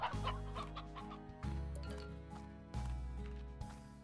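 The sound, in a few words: chickens clucking in Slime Rancher video game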